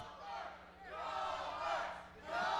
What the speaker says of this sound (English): The fans are going nuts.